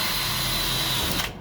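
A power drill bores holes through aluminum over a board in a temporary bus fix, a loud, steady whirring grind close up that cuts off just before the end.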